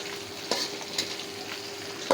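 Ginger, whole garlic cloves and red chili fry in mustard oil, a soft continuous sizzle punctuated by a few brief stirring clatters, close and fairly quiet with no talking.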